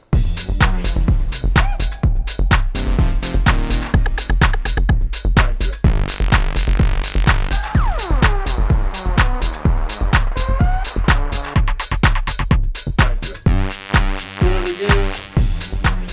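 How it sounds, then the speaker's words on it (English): A driving tech house beat played on an MPC Live 2 sampler, with a steady four-on-the-floor kick, crisp hi-hats and a deep groovy bassline, loud and continuous, with no talking. "that's where we get the entire tech house idea that sounds like this"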